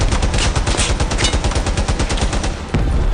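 Vehicle-mounted machine guns in the Crossout video game fire a fast, loud, continuous stream of rounds, evenly spaced and close, cutting off briefly near the end before resuming.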